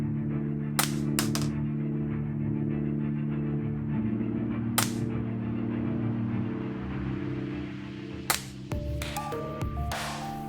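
A WE CT25 Colt Junior .25 ACP gas blowback airsoft pistol fires a few sharp, isolated snapping shots at a small paper target, spaced seconds apart over a steady low background hum, followed by a quick cluster of clicks.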